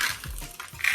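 Chocolate chips being stirred into homemade cookie dough, with soft scraping and light clinks of a utensil against the bowl, quiet and close, a few brief strokes with no talking.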